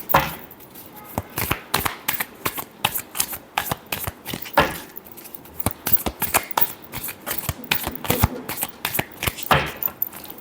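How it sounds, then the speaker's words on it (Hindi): Tarot cards shuffled up close in quick, uneven bursts of papery flicks and riffles, loud and continuous for about ten seconds with no voices. "Last shuffle."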